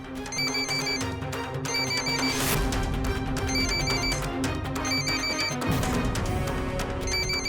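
A telephone rings over and over in repeated electronic bursts, loud and close, with no voices.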